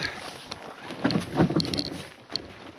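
A kayak scrapes and knocks as it squeezes under a low obstacle on a spring lake, with irregular close bumps, water sloshing and wind noise on the microphone.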